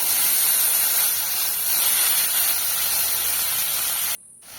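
Water lily stems hit hot tempered oil with a loud, steady hiss of sizzling that holds for about four seconds, then cuts off abruptly to a much quieter frying sound.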